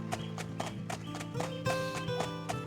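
Horse hooves clip-clop in a steady, evenly spaced rhythm in the PS2 video game Horsez, moderately loud and close with no talk over them.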